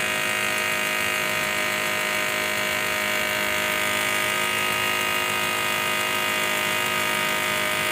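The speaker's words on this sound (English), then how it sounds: "So we're going to bleed out the fuel injectors." Fuel injectors bleeding on an injector test and cleaning machine at about 43.5 psi line pressure, a continuous loud mechanical buzz with a rapid steady ticking, unchanging for the whole stretch.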